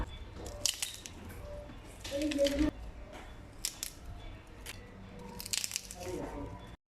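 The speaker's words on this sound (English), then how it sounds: "I'm just going to let you listen to how crunchy my plantain chips sound" Several bursts of crisp crunching from fried plantain chips being bitten, close and fairly loud, spaced irregularly with short quiet gaps between bites.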